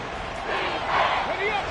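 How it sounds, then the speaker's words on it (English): A stadium crowd at a Giants football game roars in a broad, steady wash that swells toward the middle, while a commentator talks over it. "This crowd doing all they can"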